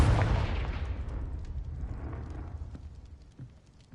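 A Confringo blasting spell explosion in Hogwarts Legacy, one strong boom at the start whose rumbling tail decays steadily over several seconds, with faint crackles afterward.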